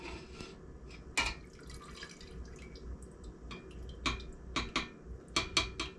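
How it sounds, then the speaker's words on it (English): Candle ends dipped into a pot of melted beeswax, producing soft liquid drips and light splashes with sharper clinks against the pot, irregular and fairly quiet in a calm indoor space. "We're gonna take the end like this, and we're just going to dip it into all of the wax."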